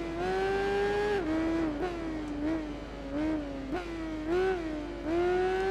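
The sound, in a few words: motorbikes racing in video game Tourist Trophy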